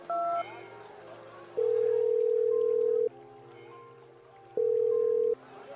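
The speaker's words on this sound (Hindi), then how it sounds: "उन्होंने राजन को फोन मिलाया।" A telephone call rings out with two long, loud, steady ringback tones, separated by a pause, after a short tone at the start, with soft background music running beneath.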